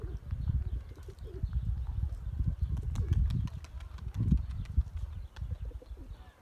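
A young blue pigeon in flight claps its wings, with a series of sharp snapping wing beats at irregular intervals over a rumbling outdoor background.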